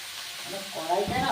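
Cabbage goes into a hot kadai, where a soft hiss swells into a brief, louder crackling sizzle with some stirring, heard up close over a short moment.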